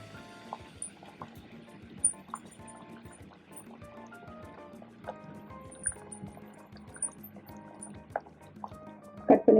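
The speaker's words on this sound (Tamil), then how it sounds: "இப்போ நம்ம வேக வச்சிருக்க பருப்பு இதில் போட்டுக்கலாம்" Cooked dal (lentils) goes into a pan for coriander leaves kootu, making a soft wet pouring and dribbling sound at low volume, ending in a louder splat.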